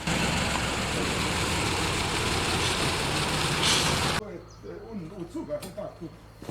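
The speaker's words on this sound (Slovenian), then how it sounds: "Tudi zvok 6-valjnika je prijetnejši." Six-cylinder diesel of a TAM 170 T 19 forestry truck with front-axle drive, built for hauling timber, roars loudly and steadily for about four seconds, then drops abruptly to a quieter, uneven running rumble.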